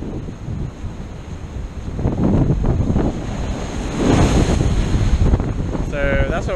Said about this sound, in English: On these bigger waves like this one, this one's going to spray everything.